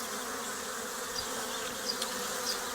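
A faint, steady buzz of many bees droning together, continuous and even, with no talking.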